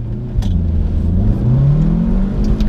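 An Audi S1 Quattro engine revs hard in first gear on a soaking wet straight road, a loud, steady mid-pitched drone that climbs gradually in pitch as it accelerates, heard from inside the car with no talking.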